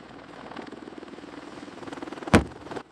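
Attack helicopter rotors beating through cold Arctic air, a moderately loud rhythmic thudding that holds steady, with a sharp loud burst near the end.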